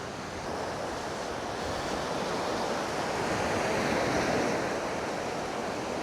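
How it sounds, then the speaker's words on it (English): Steady roar of Mediterranean Sea waves washing onto the shore at a Spanish campsite, broad and continuous with a slight swell in the middle, wind hiss mixed in; no voices. "this is the Mediterranean Sea."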